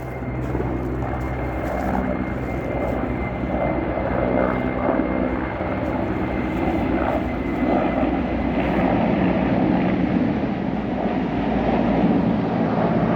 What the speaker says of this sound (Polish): jakiś helikopter pomyka.